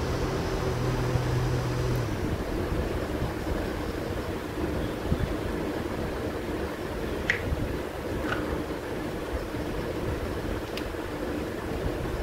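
A 12V DC motor for a charging fan runs at semi speed, giving a steady, even whir with a low hum that holds throughout, with a few faint clicks along the way.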